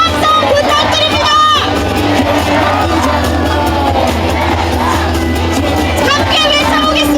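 A large outdoor crowd at a Democratic Party presidential campaign rally in Yeosu cheers, yells and whoops steadily and loudly throughout, a dense roar of many voices with no pause.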